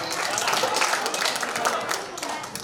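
An audience at a Louis Braille birth anniversary function claps loudly for a children's performance, a dense wash of many hands applauding steadily for the whole stretch before easing slightly near the end.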